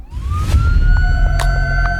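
A loud wailing siren rises and then holds a steady tone, with sharp clanks and noise from nearby traffic underneath.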